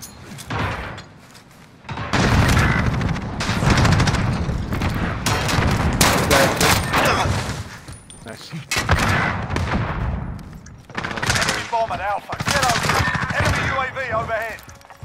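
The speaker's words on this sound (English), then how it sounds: "those weren't fireworks. Those were gunshots" Bursts of rapid gunfire in Modern Warfare Search and Destroy crackle loudly in several stretches, separated by brief lulls, with a voice talking faintly between volleys.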